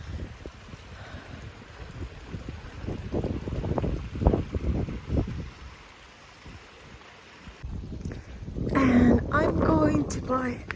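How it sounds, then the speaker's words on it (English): Gusty wind buffets the microphone in low rumbling bursts, easing off midway, then voices talk over the continuing wind near the end. "it is so windy today, sunny and windy"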